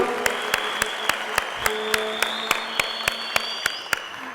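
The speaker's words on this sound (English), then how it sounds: "Another round of applause for His Excellency the Deputy President, Dr. William Ruto." Audience applause at the YSK Awards Ceremony 2019 for Kenya's Deputy President William Ruto, a steady wash of clapping under a sustained tone, with regular sharp beats cutting through at a quick even pulse.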